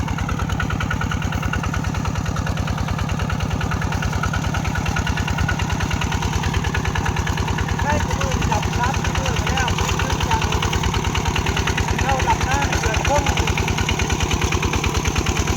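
A walking tractor's small engine chugs steadily while ploughing a rice field, with a rapid, even knocking rhythm, loud and close, running without pause throughout.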